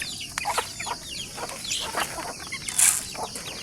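Native farm chickens being fed, soft scattered clucks and a few sharper calls, fairly close over a low background hum.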